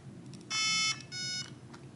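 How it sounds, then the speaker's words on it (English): Two electronic beeps from a Viper electronic speed control entering calibration mode, the first longer than the second, clear against a quiet background. "press and hold the button for a few seconds until you hear two beeps."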